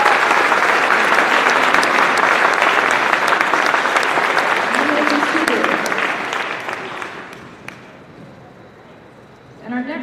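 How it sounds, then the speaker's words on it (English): An audience at a high school pops concert applauds the freshmen with dense, steady clapping for about seven seconds, then the clapping thins and fades out. "Would you give these freshmen applause,"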